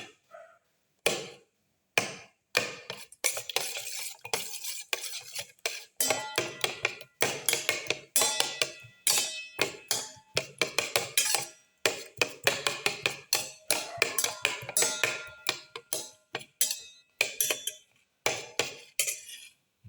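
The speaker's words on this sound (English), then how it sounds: "Crush the tomato pieces by mixing." Tomato pieces are stirred and crushed in a pan while cooking a pepper fenugreek omelette, with a long run of close, sharp utensil knocks and scrapes in an uneven rhythm, without speech.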